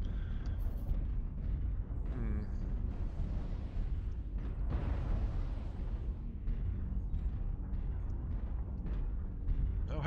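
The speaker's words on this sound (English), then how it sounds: "that's an incoming missile barrage there" A missile barrage slams down in Mechwarrior Online, a dense continuous roar of overlapping booms and rumbling blasts, loud and sustained throughout.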